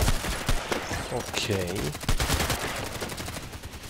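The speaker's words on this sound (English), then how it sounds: "That's a guy with a machine gun that takes ages to be emptied." Sustained machine gun fire rattles through a sniper video game battle, rapid bursts of shots continuing steadily throughout, with a brief spoken word over the gunfire.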